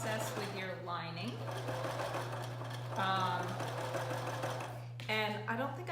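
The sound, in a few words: sewing machine stitching a cloth mask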